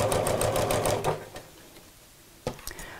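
Domestic sewing machine stitching a fabric mat with pockets, a fast close run of needle strokes that stops after about a second, followed by quiet handling and a couple of short bursts of stitching later.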